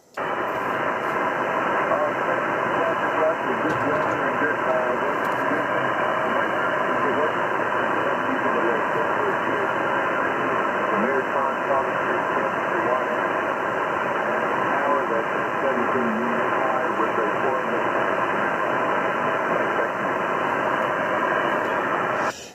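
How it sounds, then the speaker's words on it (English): A noisy 10-meter shortwave amateur radio channel on an IC-7300 with a 5/8 vertical antenna hisses steadily throughout, a broad wash of static with a fading voice buried and barely emerging from it. "Yeah, okay, Ricardo, just losing you in the QSB that time."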